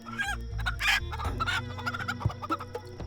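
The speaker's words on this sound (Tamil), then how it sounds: "கோழி கதற சத்தம்" A chicken squawks and clucks frantically in distress, loud and close, with a rapid run of agitated cries over a low rumbling background.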